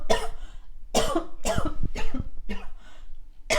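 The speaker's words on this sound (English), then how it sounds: "I'm about to cough, excuse me." A woman coughs several times in quick succession, close and loud, with short gaps between the harsh bursts and no talking.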